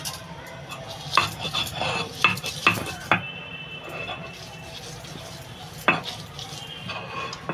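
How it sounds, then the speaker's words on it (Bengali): Fried soybean ground into a paste by hand, a steady rough scraping and rubbing broken by several sharp knocks and clatters, close and moderately loud, with no talking. "এই যে বাকি ভাজা সয়াবিনটা এটা আমি বেটে নেব"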